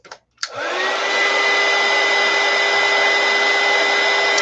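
A hand-held dryer switches on after a short click and blows a loud, steady whooshing hum with a constant whine to dry a chunky scrapbook project, running close and unbroken to the end.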